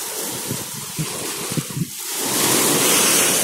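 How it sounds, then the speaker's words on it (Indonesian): Strong wind and surf at the sea beach of Eretan, Indramayu, with fishing boats offshore; steady roaring wind buffets the microphone over continuous wave wash, swelling louder toward the end. "karena kami kan berada di laut ya, jadi anginnya begitu besar ya"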